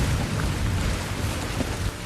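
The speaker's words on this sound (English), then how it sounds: "It is raining really hard out. Harder than usual." Heavy, relentless rain pours in the Minecraft game, a loud, unbroken hiss of downpour with no voices or pauses.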